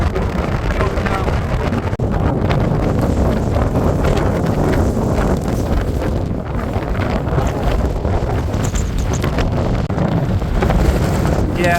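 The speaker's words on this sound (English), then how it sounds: "The wind's too high." Strong high wind in the Lake District mountains roars and buffets a microphone continuously at close range, a loud, unbroken gusting rumble.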